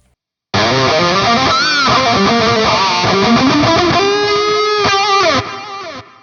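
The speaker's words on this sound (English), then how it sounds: "We're just gonna use the delay and the reverb that were on this preset already." Electric guitar lead through a Fender Tone Master Pro with delay and reverb, sustained bending notes ringing out loud and continuous for about five seconds before trailing off into the echoes.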